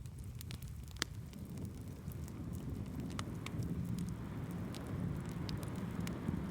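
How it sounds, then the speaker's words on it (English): Gentle rain patters on the roof of a forest cabin as a soft, steady hiss with scattered faint drop ticks, low and continuous throughout, with no talking. "You can hear the soft patter of raindrops on the roof"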